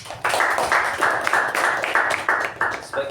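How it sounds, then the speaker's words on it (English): A Toastmasters meeting audience claps in a steady run of distinct, evenly spaced bursts that sound like a modest group in a room, without speech. "let us give them a big round of applause"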